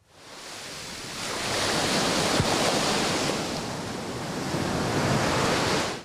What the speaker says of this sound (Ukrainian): Хвилі тут методично підточують глиняні схили